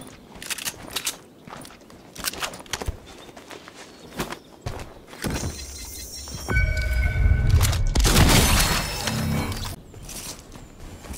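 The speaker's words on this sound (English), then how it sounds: "Footsteps." Footsteps in Fortnite come as quick irregular taps among clattering game mechanisms, with a louder burst of noise near the end.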